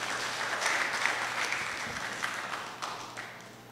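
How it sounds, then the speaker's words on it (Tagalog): An audience at a service award ceremony gives steady applause, a broad continuous clatter of many hands at moderate distance that fades gently toward the end, with no talking. "Kaya isa nga po malakas na palakpak para sa ating Panginoon"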